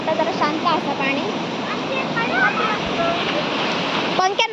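River water rushing steadily in a continuous broadband wash, loud and close throughout, with people talking faintly over the flow.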